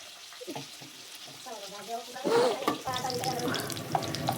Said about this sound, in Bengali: দিয়ে এবার দিয়ে দিয়েছি আলু, টুকরো করে রাখা আলু। আলুটাকে ভাজবো।